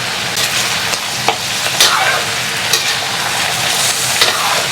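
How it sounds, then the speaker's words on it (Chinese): Pork belly stir-fried with scallion, ginger, garlic, star anise, cinnamon, bay leaves and dangshen, a loud close sizzle and crackle with repeated scraping strokes of a spatula in the wok. "炒它直到啪啪响就行了。"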